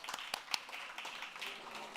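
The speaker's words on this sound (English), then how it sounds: "Give Denise a round of applause" Audience applause at a food conference: faint, sparse claps from a modest crowd, irregular and somewhat distant, lasting only a couple of seconds.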